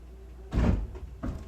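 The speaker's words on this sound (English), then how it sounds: "my outside door just slams constantly" An outside door in an apartment complex slamming: one heavy, booming thud close by, followed about half a second later by a second, softer knock as it settles.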